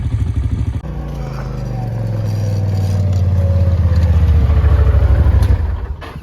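A dirt bike engine runs close and loud, its pitch gliding down slowly and then holding in a steady throbbing drone before the sound cuts off sharply near the end.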